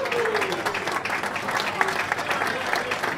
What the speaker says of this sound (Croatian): molim se veliki aplauz